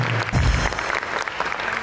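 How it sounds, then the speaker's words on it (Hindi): A studio audience at a Pakistani talk show applauds for guest Yasir Hussain, a dense burst of clapping that swells early and then holds steady at a moderate level. "तालियां यासिर के लिए"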